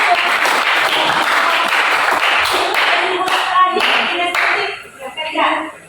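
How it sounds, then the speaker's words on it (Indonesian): An audience in an Indonesian classroom presentation on learning styles clapping hands together, a dense burst of applause that thins out into scattered claps near the end, with voices mixed in. "Tepuk tangan."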